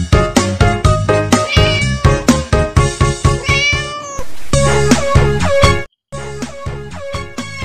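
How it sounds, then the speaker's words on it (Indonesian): Cute cats meow close by and loudly in rapid, repeated calls, some short and choppy and others long and drawn out, overlapping one another with a brief pause near the end. "Kucing-kucing yang lucu-lucu,"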